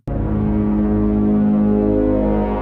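Deep, sustained synth-like drone from a harp's low bass strings run through fuzz and octave reverb pedals, thick and loud with rich layered harmonics, holding steady for a few seconds without talk.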